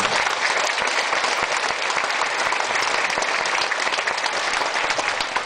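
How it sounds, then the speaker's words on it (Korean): Sustained, dense applause from a large crowd at a Korean traditional music (gugak) show, steady and loud throughout with no pauses. "힘찬 박수 부탁드리겠습니다"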